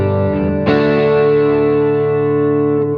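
An electric guitar on its neck pickup rings out through a pedalboard of effects, a sustained chord swelling in with a fresh strum and then slowly decaying, loud and warm with a shimmering, distorted edge.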